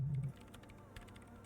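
Keyboard keys are pressed in Disco Elysium, a few faint, quick clicks scattered after a brief low hum, quiet and close in near silence.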